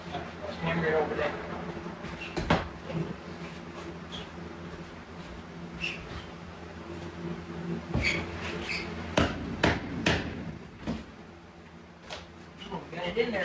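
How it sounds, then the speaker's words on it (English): A hammer strikes repeatedly while work goes on at a carport floor being turned into a man-cave: irregular sharp knocks, some in quick clusters, over a low background hum. "Hammer it over there."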